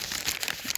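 Thin Bible paper pages of an interleaved pocket Bible crinkle and rustle as they are handled up close, a steady dry crackling with brief crisp peaks throughout.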